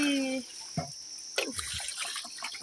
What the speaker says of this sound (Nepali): कालो भाडा झस्काइरहेको छु